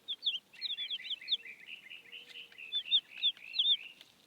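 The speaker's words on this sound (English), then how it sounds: "Listen to the birds." Small birds chirping close by in quick, bright bursts of high tweets, several calls overlapping in an irregular rhythm, soft and clear against a quiet background.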